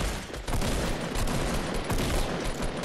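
Gunfire from the video game Fortnite, likely shotguns, rattles in dense overlapping bursts throughout, loud and continuous with no pauses.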